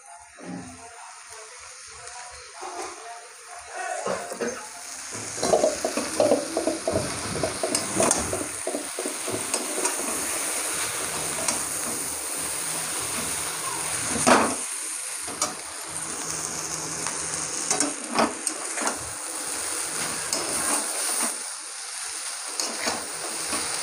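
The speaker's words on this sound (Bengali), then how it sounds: "এখন আমি এই ছেঁকে রাখা এই চাউমিনগুলো দিই।" Home-style chowmein noodles are stir-fried in a pan with onion, chilli and tomato, a loud continuous sizzle broken by scraping and stirring clatter, close up with no talk.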